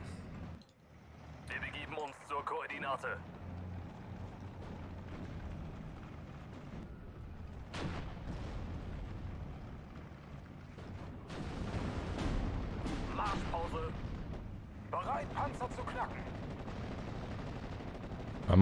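Artillery and gunfire boom and crackle through a battle at Cheux in the World War II strategy game Steel Division: Normandy 44. Bursts of shots come in waves over a dense rumbling backdrop, now close and sharp, now distant.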